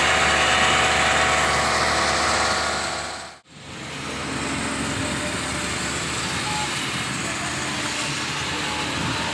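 A Daihatsu Grand Max pickup engine runs steadily during tuning, a loud continuous drone that dips to near silence for a moment before resuming at the same level.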